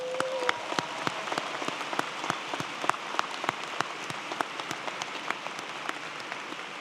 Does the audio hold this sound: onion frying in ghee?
no